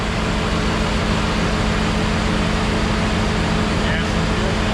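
The engine of a 1975 Plymouth Duster, newly back on the road, runs steadily. It gives a loud, dense, continuous roar with a low droning hum underneath, unchanging for the whole stretch.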